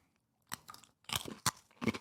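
Someone bites into a thin, crunchy Dutch coffee-flavoured cracker and chews it. A few crisp, close crunches come in short bursts, quiet and alone.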